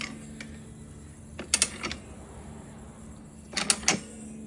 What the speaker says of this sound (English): now we're going to take this tire and ratchet it right on